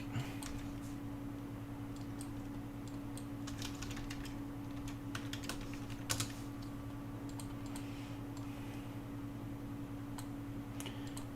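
Computer keyboard typing at a steady moderate level, scattered clicks and keystrokes over a constant low electrical hum, with no voices.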